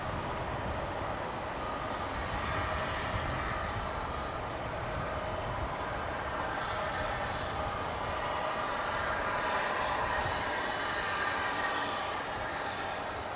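A jet airliner's engines idle at Dallas/Fort Worth Airport while the plane waits for takeoff clearance. The result is a steady, broad rumble and whine that holds at an even level throughout, with no talk.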